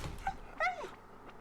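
A dog in Stardew Valley gives a short whimpering whine, a rising then falling call near the middle, with a faint earlier yip over quiet game background.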